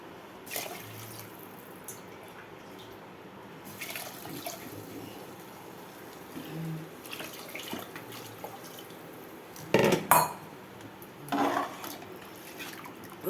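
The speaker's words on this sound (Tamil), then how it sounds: "நான் 1 கப்பு தண்ணி ஊற்றுறேன்." Water poured from a cup onto rice for chicken biryani gives soft splashing and trickling against a low room hiss, with a louder, brighter pour near the end and a few faint clinks.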